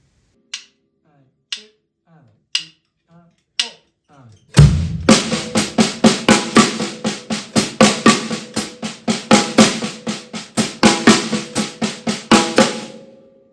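Drum kit fill built from six-stroke rolls in sixteenth notes at 60 BPM, after a few sparse count-in clicks; a loud hit launches a dense, steady run of strokes that continues evenly to the end with no talk.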